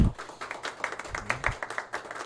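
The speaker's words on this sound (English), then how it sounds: "A round of applause" Scattered clapping from a small talk-show audience welcoming a guest, light and uneven taps over a short span with no speech.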